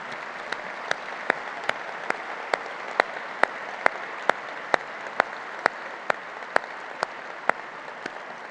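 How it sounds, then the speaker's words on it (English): Applause at an awards ceremony honoring former prize winners, a steady hiss of crowd clapping punctuated by a regular, evenly spaced series of sharp loud claps repeating about twice a second. "Please give them a round of applause."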